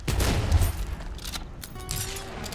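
A double-barrel shotgun fires in the Western roguelike shooter Soulslinger Envoy of Death. The blasts are loud, close and booming, with a couple of quick reports and their rumbling tails over game ambience.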